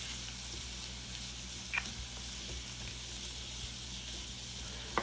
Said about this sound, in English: get these onions kind of cooked down and caramelized, mixed with that bacon fat